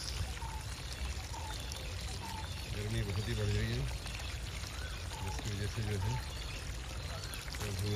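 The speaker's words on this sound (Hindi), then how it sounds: "पानी डालना बहुत ज़्यादा ज़रूरी हो गया है।" Water is poured in a continuous, steady rushing stream throughout, fairly loud and close, while a person talks over it.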